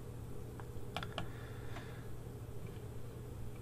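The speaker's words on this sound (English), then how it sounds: "I'm going to click on this one and right mouse click" A few sharp computer mouse clicks from a right-click during embroidery digitizing software work, quiet and close over a steady background hum, spaced irregularly across a short stretch without talk.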